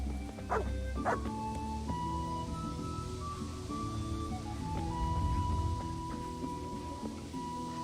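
In the medieval role-playing game Kingdom Come: Deliverance, a dog gives two short yips early on and then soft whimpers, set against a faint game ambience with a steady tonal drone.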